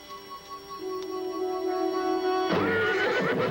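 A horse whinnies in a long, high, wavering call, followed by a louder, rougher neigh at the end, among other horses.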